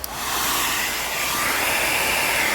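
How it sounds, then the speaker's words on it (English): A hair dryer runs on its high setting to heat the screen of a Motorola G5S Plus phone for replacement, switching on and then giving a loud, steady, close whooshing roar throughout. "with a hairdryer."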